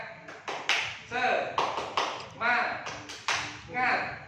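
A classroom group performs a rhythmic 'tepuk semangat' clapping chant, with sharp claps repeating in a steady patterned beat, close and loud, alongside chanting voices.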